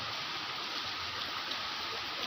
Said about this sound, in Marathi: पाऊस खूप आहे इकडे.